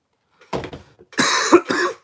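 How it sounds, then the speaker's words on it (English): A few close, harsh coughs: a short weak pair followed by two louder, raspier bursts in quick succession. "I got a cough because I'm sick, okay?"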